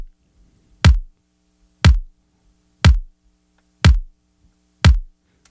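Five evenly spaced, punchy drum machine kicks with a deep sub tail, each shaped by a compressor and transient shaper, landing about once per second, loud and close with no other sounds.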